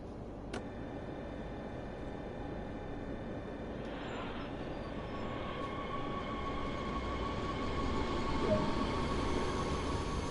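Multiple unit train on the Rhein-Ruhr Osten route in Train Sim World 2020, moving off and gathering speed: a steady rumble of motors and rails that slowly grows louder, with no talk.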